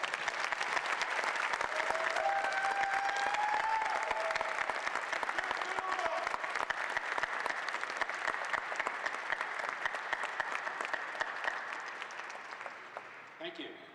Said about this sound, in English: Would you now all collectively applaud?